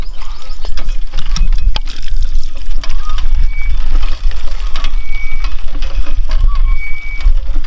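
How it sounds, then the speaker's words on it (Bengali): Water is drawn into a vessel through a cloth tied over its mouth in a Sundarban village, with a loud, steady rush and trickle that runs throughout, mixed with scattered clicks and knocks. "সেই ওড়না কিন্তু মুখটাকে বেঁধে তারপরে জল নিতে হয়"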